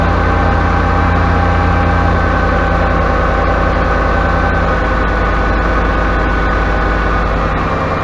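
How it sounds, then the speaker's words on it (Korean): A Dodge Dakota V8 engine runs at raised idle while warming up from cold, a loud, steady low rumble with constant mechanical hum, heard up close and alone without talk. "지금 엔진 소리밖에 안 들리죠."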